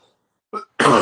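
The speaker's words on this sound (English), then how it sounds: "I cannot quit coughing" A brief faint sound, then a short cough followed by a louder, harsher cough from a man with a winter cold, both close and with no talking.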